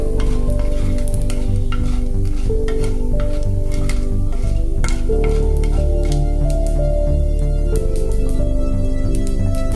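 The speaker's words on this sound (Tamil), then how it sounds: "இதெல்லாம் நல்லா பொரியட்டும்." Mustard seeds, cumin, urad dal and chana dal frying in hot oil give a steady, close sizzle with scattered sharp pops and crackles that carry on throughout, with no talk.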